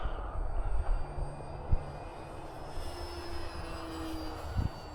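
An FMS Ranger 1220mm radio-controlled model airplane on floats, flying off snow, drones faintly at the far end of the runway, a thin steady engine buzz under outdoor wind noise with a few soft thumps nearby.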